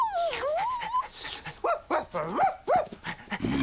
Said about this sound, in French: Un chien, il vit auprès des hommes.